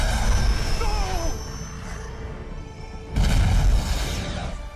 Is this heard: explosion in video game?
yes